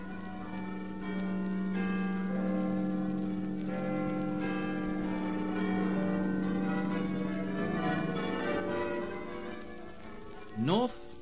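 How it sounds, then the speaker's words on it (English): Bells of Westminster Abbey ringing together with the chimes of Big Ben over the Houses of Parliament in London, recorded in 1951: a steady, resonant peal of overlapping tolls that holds evenly throughout, ending with a short rising swish. "the bells of Westminster Abbey merge with the chimes of Big Ben over the Houses of Parliament"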